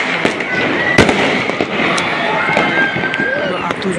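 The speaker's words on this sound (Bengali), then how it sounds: "আতশবাজির শব্দ কিন্তু এই মুহূর্তে আমরা শুনতে পাচ্ছি" Fireworks crack and pop repeatedly over the capital city at midnight, with sharp close bangs above a continuous roar of distant bursts and crowd noise.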